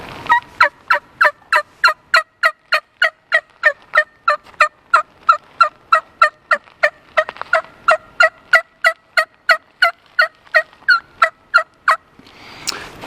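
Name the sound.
hen turkey assembly yelp imitated on a call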